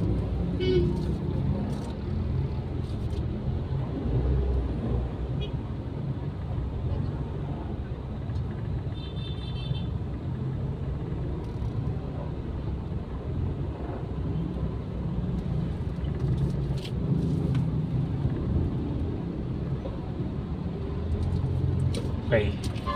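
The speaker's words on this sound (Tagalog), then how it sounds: "Traffic na ito." Road traffic at a busy main intersection, a steady broadband rumble of car and bus engines close by, with a voice talking over it at times.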